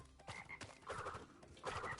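Frogs croaking in the video game Crash Bandicoot Warped, a quick run of raspy, rhythmic croaks heard close up against busy game sounds, with no talking.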